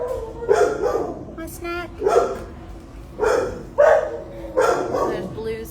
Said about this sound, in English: We have a beautiful cattle dog